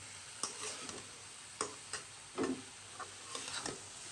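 Potatoes and spinach fry in a pan after the water has cooked off. A spoon stirs them in several short, scraping strokes over a faint, quiet sizzle.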